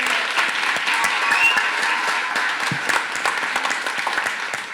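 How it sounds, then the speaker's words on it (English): A room full of people applauds a panel at a San Antonio industry event, dense sustained clapping that stays strong and even for nearly five seconds before easing slightly at the end. "can we give a round of applause to Will as well?"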